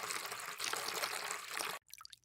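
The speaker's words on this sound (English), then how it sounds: "pour water into the filter until it's above the level of the diffuser" Water poured into a biosand filter, a steady close trickling pour that runs for nearly two seconds and then stops abruptly, leaving a few faint drips and small splashes.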